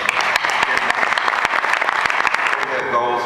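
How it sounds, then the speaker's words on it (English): Audience applause at a charity coding event, a dense, steady patter of many hands clapping at moderate volume for a few seconds. "big thank you and a big applause"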